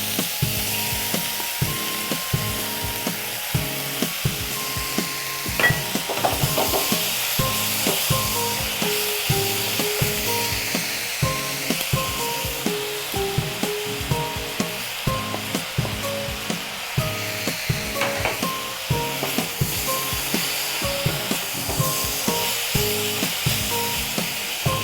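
Tomato slices fry with softened onions in a pan, a steady hiss and crackle throughout, and a spatula scrapes and stirs at regular intervals close by.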